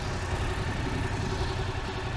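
A car engine during a driving lesson, turning a figure-eight, runs with a steady, moderately loud broadband rumble and no clear rise in pitch over the brief stretch.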